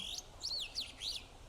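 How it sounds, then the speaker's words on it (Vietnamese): Bird at San Diego Zoo Safari Park chirping in three or four bright, rising-and-falling tweets spaced about evenly, fairly close and clear over a soft outdoor hum. "một em chim nằm ngay đây."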